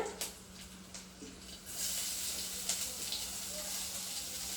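Onions frying in hot oil for a vegetable oats dish, a steady soft sizzle that thickens after the first couple of seconds, faint and close, with no talk over it.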